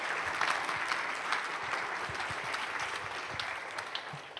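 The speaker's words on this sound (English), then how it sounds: "So can we give Tracy another round of applause?" A round of audience applause for a speaker named Tracy at a tech talk, dense steady clapping from a moderately sized crowd, sustained throughout at medium distance.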